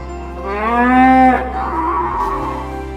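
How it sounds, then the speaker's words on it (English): A cow moos from a tunnel: one long, loud, close low bellow that rises and then trails off into quieter background noise. "That ghost noise sounds a lot like a cow."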